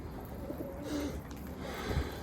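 Pigeons kept in a loft cooing softly nearby, a short low burbling call rising over faint outdoor background noise.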